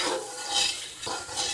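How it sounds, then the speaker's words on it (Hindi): Chicken frying with ginger, garlic and green onion, a close, loud sizzle with rhythmic scraping swells as a spoon stirs the pan, about three strokes in quick succession. "और इसको अब हम भूनते जाएंगे ताकि अदरक लहसुन की स्मेल ख़त्म हो जाए"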